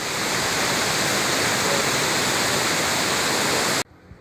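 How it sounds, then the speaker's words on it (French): A small stream flows strongly beside a canal near Saarburg, Germany, a close, loud, even rush of water that runs steadily for nearly four seconds and then cuts off abruptly to quiet. "Ah, ça coule bien. Le petit ruisseau de rien du tout, c'est dedans, hein."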